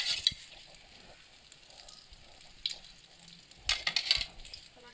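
Egg-dipped bread frying in ghee in a pan gives a low, steady sizzle, broken by a few sharp clinks and scrapes of a utensil against the pan.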